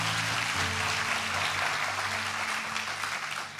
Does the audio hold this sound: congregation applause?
yes